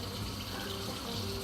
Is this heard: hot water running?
yes